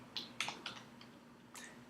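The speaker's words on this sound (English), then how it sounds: "start typing in." Quick bursts of typing on a computer keyboard, a few crisp key clicks close by, quiet over a steady hum, with no talking.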